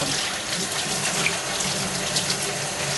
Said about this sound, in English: just regular tap water to rinse it off